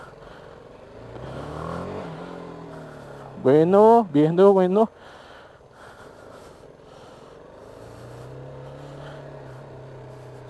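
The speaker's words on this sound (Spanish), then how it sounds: "Suena a moto grande." A BMW G 310 R motorcycle engine rumbles at idle, then gives a few sharp, loud revs in quick succession before settling back to a low idle, with someone speaking Spanish nearby.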